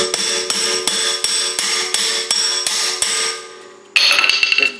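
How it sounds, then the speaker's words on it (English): A hammer strikes a socket being driven onto a locking wheel nut, with sharp metallic blows repeating at a steady rhythm of about three per second, loud and close, and a ringing metal tone that ends with a brief burst of clatter. "We're just going to hammer it up right out over the top of"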